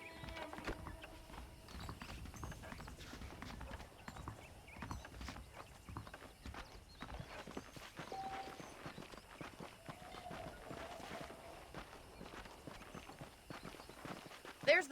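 Horse hooves clip-clop steadily at a walking pace in Red Dead Redemption, fairly quiet, with a voice talking over them.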